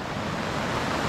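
Sea surf of brown, churned-up water crashing close by, a steady broadband roar with wind noise over the microphone and no voices.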